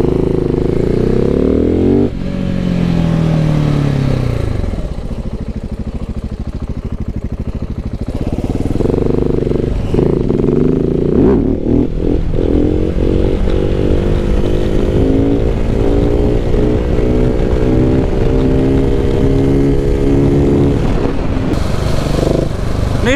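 A motorcycle engine revs hard and close for a wheelie, a loud sustained roar with rising and falling throttle sweeps and a brief dip in intensity partway through, continuous and dominant with no talk heard.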